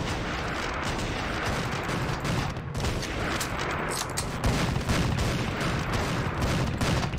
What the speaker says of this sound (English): Someone is shooting me and I cannot tell